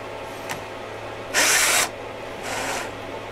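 A power drill drives small self-drilling screws in a workshop project, with two short bursts of whirring: one loud and close, then a fainter one after a pause, plus a small click at the start.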